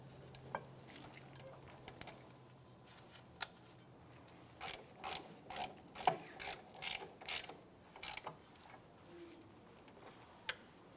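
A ratchet snugs down brake caliper bolts on a 2005-2007 Ford Five Hundred during a rear caliper replacement, producing a run of quick, close clicking bursts in the middle after a few scattered clicks, fairly quiet overall with no talking.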